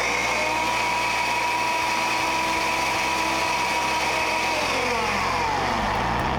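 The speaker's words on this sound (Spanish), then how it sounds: "el complemento, que es esta proteína vegetal muy fresca, y lo ponemos en la licuadora" A kitchen blender whirs loudly while mixing oats with fresh vegetable protein for pancake batter, its motor holding a steady drone with a pitch shift partway through and no talking.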